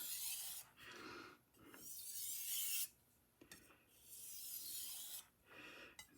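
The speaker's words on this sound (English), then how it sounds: "do some deburring," A knife blade's edge is stropped to remove the burr, giving repeated soft rasping rubs in long sweeping strokes, close and fairly quiet, with short pauses between passes and no talking.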